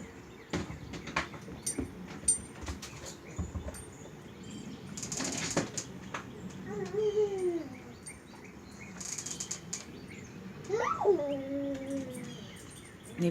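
Several birds give short chirps and rising whistled calls at middle distance, scattered among wing flaps and rustling against quiet outdoor background noise.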